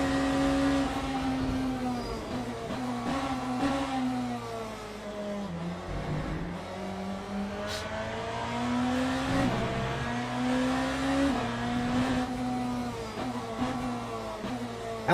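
Dense field of race cars at Daytona in the sim game Le Mans Ultimate, many engines droning and shifting pitch together, steady and loud with gear changes rising and falling throughout.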